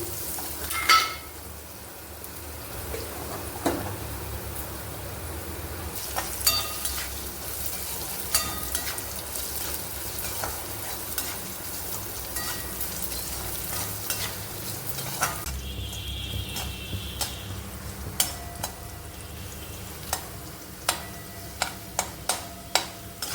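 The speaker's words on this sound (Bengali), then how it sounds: "গাজরটাও ভাজা হয়ে গেছে" Carrots frying in a pan while being stirred, with a constant soft sizzle under repeated sharp scrapes and clicks of the utensil against the pan, close by and without talk.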